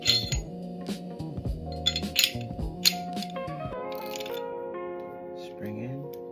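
Metal parts of a Glock 19 Gen 5 MOS pistol clink and click sharply during reassembly, several brief knocks and a spring being fitted, close and fairly quiet with gaps of stillness between.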